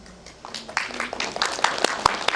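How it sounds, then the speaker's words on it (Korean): Scattered hand claps from a small audience at a Korean film staff screening event, a brief, thin round of applause that builds over a couple of seconds with murmured voices underneath. "유일하게 박수 받으셨어요 지금"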